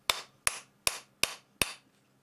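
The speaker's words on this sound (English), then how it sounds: "So now I'm going to hang the handle on the head of the hammer again for the last time." A new handle is driven onto a mini sledgehammer head with five sharp, evenly spaced strikes, each ringing briefly before the next. The blows are close and loud, with no talking.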